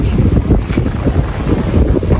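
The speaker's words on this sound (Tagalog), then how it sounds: "Kaya pagkagantong oras nga, alas 8 na, ang lakas na hangin." Strong wind gusting across an open-air microphone at about eight in the morning, a steady loud rumbling buffet with no voices over it.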